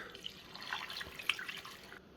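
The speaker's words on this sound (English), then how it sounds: "Now you just want to pour that brine and get all that flavor over your chicken." Brine poured over raw chicken, a faint trickling, splashing liquid sound that pulses unevenly for about two seconds, close and quiet with no voices.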